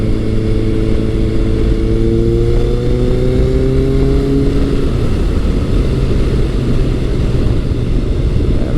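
A Kawasaki ZRX1100 motorcycle engine drones loud and close while the bike is ridden. It holds a steady tone and then shifts gear about halfway through, with a rushing wind-like roar throughout.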